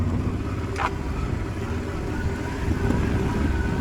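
A car rolls along a rough, stony track in Iceland, giving a steady low engine and tyre rumble with faint gravel crunching throughout.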